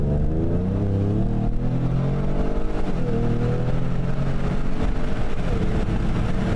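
Loud, steady wind rush through an open window of a moving Ford Explorer Sport with a Borla exhaust in sport mode, with the engine's low drone and shifting pitch running underneath.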